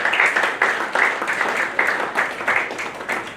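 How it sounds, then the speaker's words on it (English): An audience at an alumni testimonies talk claps for the Read the Book team, a moderate, steady round of applause with rhythmic bursts, heard at some distance in a room. "Let's give the Read the Book team a round of applause again."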